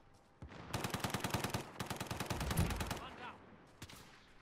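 Rapid automatic gunfire in Call of Duty Warzone, a sustained burst of fast rhythmic shots lasting a few seconds, moderately loud, followed by a couple of isolated shots.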